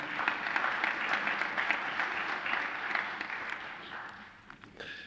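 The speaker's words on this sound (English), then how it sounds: "I think she needs another round of applause." Audience at a fire and rescue emergency medical services awards ceremony clapping for an honoree, a sustained, moderately loud patter of many hands that thins and fades near the end before a brief renewed burst.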